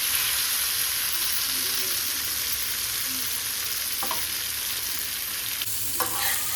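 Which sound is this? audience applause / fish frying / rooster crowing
fish frying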